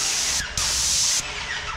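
Airless paint sprayer spraying clean water: a loud, close, steady hiss that cuts out briefly, resumes, then drops to a softer hiss near the end.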